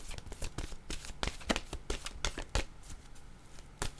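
Tarot cards being shuffled by hand before a card is drawn, with quiet, close riffling and soft slaps in an irregular run of short bursts.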